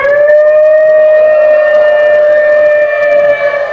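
A person imitates a long ambulance siren with the voice, one steady sustained wail held loud and close for the whole stretch, with no other speech.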